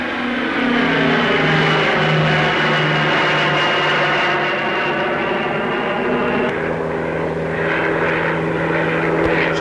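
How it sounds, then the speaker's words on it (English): A Handley Page Marathon 2 turboprop feeder aircraft flies at an air show, its propeller engines droning loud and steady throughout with a slight shift in pitch as it passes. "Still more turboprops. This time in Handley Page Marathon 2"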